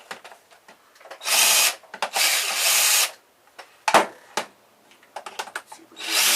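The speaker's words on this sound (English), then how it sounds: "let's take these last couple screws out." Power drill bursts unscrewing the last screws from an alarm clock, several short whirring runs of about half a second to a second and a half between small clicks and handling knocks, close up with no voices.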